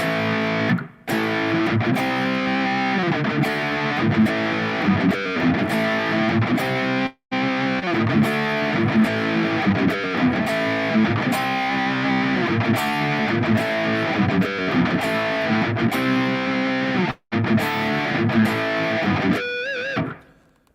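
Heavily distorted electric guitar on an Ampero rhythm channel chugs out a driving rhythm pattern for a long stretch, loud and dense, with brief cutoffs before it fades at the end.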